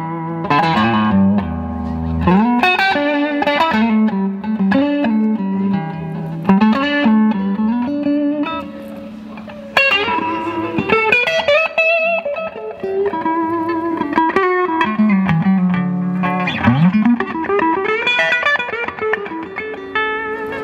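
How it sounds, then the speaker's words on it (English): A 1979 Fender Stratocaster on its neck pickup plays through a 1960s Fender Twin Reverb, with a continuous run of ringing notes and chords carrying a touch of reverb, loud and alone. "let's start off on that neck pickup,"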